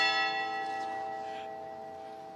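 A church bell rings in Maryborough, one sustained chime with bright overtones that slowly decays, heard alone at moderate loudness.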